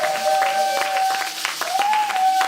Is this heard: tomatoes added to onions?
no